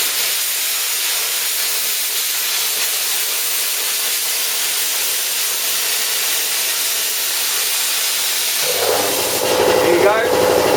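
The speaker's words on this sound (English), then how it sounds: "the compressor's just started up there" A shop air compressor used alongside a plasma cutter kicks on near the end, adding a rising mechanical rumble and chugging over a steady, loud hiss that fills the rest of the clip.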